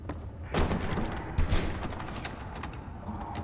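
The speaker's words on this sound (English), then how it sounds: "That sounds like the door." Door thumping in the video game Fallout New Vegas: two heavy knocks about a second apart over a quiet ambient background, followed by faint softer taps, with no talk.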